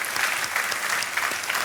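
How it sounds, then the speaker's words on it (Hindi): A studio audience on the Hindi quiz show Kaun Banega Crorepati claps loudly and continuously in dense, sustained applause with no talk over it. "तालियों के साथ हम आपका अभिनंदन करते हैं।"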